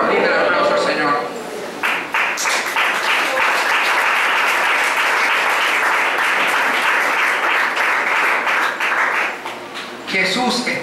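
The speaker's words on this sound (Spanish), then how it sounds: "Brinde el aplauso al Señor." A church congregation applauds during a worship service, a loud, sustained wave of clapping lasting several seconds, with speech at the start and end.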